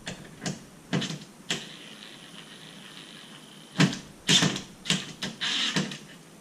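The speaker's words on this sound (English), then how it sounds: "I am going to try to slowly screw them." Screws being driven by hand to mount a Rachio 16-zone smart sprinkler controller, close faint creaks and ticking scrapes in short irregular bursts with quiet pauses between.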